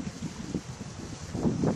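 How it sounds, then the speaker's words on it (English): Steady wind buffets the microphone at Sylvan Beach in La Porte, Texas, a low rumbling roar that swells and gusts, loudest near the end, with no voices. "It's real windy."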